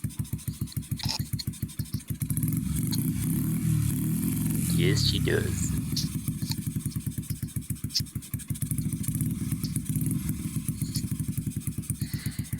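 A motorcycle engine idles too low and slowly with a steady, rapid chugging pulse, briefly revving in the middle before settling back; a voice speaks briefly over it.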